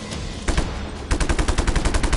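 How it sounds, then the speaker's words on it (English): Rifle fire in the video game Just Cause 3, loud and close, starts with a few spaced shots, then breaks into a rapid rhythmic burst of about a dozen quick rounds. "Just shoot it with your rifle"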